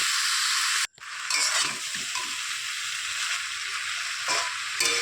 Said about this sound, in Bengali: আঁচ কমিয়ে এইভাবে কিছু সময় কচুরলতিটা ভেজে নেব।